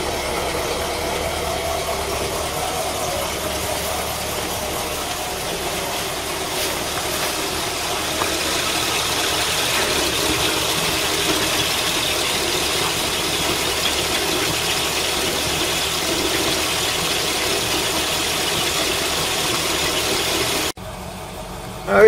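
A V8 engine running on LPG and badly in need of a tune, new leads and filters misfires through a rough, continuous idle heard up close, then cuts off abruptly near the end.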